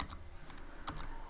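Quick keystrokes on a computer keyboard while entering Python code, several soft taps in an irregular burst, close and quiet.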